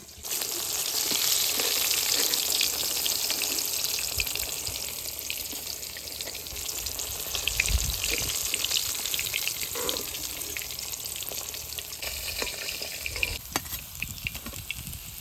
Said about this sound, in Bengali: মাছগুলো ভালো করে ভেজে নিয়েছি এবার তুলে নেব